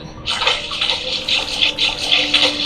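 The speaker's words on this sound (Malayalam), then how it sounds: "വെള്ളത്തിൽ ഇങ്ങനെ നടക്കുന്ന സൗണ്ട് ഉണ്ടല്ലോ സൗണ്ട് എഫക്റ്റ്" Watery footsteps from the Roblox Granny video game, a steady run of bright splashing and sloshing like wading through water, fairly loud and continuous with no talk.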